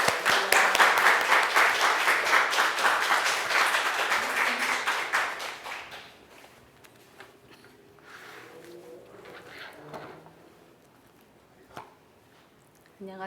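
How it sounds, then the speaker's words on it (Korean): Loud, rhythmic clapping from a church congregation at an autumn testimony service welcomes a pastor to the front, fading out after about six seconds into a quiet room with a few faint knocks and shuffles. "이 시간 우리 조영주 목 나오실 때 큰 박수 하겠습니다"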